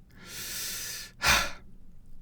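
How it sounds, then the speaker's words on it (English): Darth Vader's mechanical respirator breathing from a Star Wars trailer: one long hissing inhale followed by a sharper, louder exhale, close and alone. "followed by Vader's iconic breathing"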